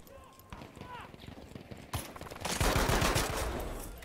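A rifle in Battlefield 5 fires a rapid series of shots, then a louder, denser burst of gunfire and explosions, with a voice talking over the action.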